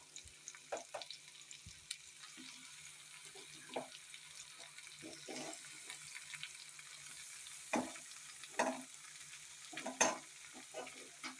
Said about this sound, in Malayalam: ഇനി നമുക്കിതിലേക്ക് എടുത്ത് കഴുകി വൃത്തിയാക്കിയിരിക്കുന്ന ചിക്കൻ ഇട്ട് കൊടുക്കാം.